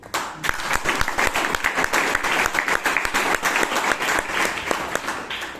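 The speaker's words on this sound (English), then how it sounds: "The clap can be a bit more louder." Audience at a Toastmasters meeting in Bangalore breaks into dense, sustained clapping that starts abruptly and holds at a lively, even level for several seconds.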